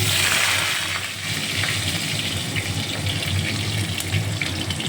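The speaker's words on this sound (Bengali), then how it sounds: "এবার আমি কড়ার মধ্যে টমেটো দিয়ে দিলাম।" Tomatoes dropped into a hot wok over tempered spices set off a loud, continuous wet hiss and sizzle that stays fairly even throughout.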